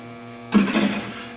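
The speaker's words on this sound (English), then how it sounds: "So now I'm going to head over to the lathe." A metal lathe motor starts with a workpiece chucked, rising from a low steady hum into a brief whirring surge that settles back toward a constant electric drone.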